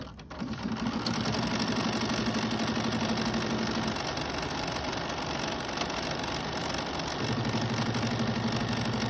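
A home embroidery machine stitches a placement line on stabilizer in a hoop for quilting, a fast steady mechanical whirring rattle that runs for several seconds, pauses briefly in the middle, then starts again, close and alone.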